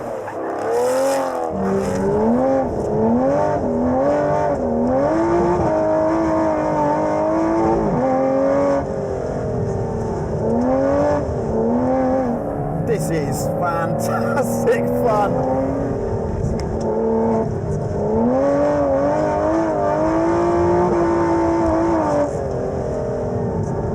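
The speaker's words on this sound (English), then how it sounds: "very fast track car that makes one of the best noises I've heard" Aston Martin Vantage GT12 track car engine revving hard and continuously, loud and close, with the pitch rising and falling through repeated throttle blips and gear changes.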